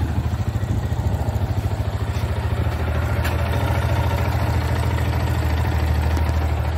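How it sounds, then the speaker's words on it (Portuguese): A Yamaha Fazer 250 Flex motorcycle engine, freshly rebuilt in a repair shop, idles steadily with a rapid even low thump and light mechanical clatter, loud and close, with no talk. "Motor em pleno funcionamento aí, parte final do serviço."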